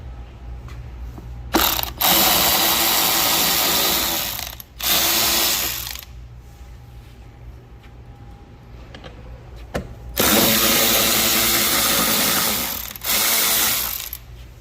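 Ratchet wrench clicking as it backs out 10 mm bolts on a Tesla Model 3 rear bumper cover, in three long, loud bursts of rapid pawl clicking separated by quieter pauses, close up.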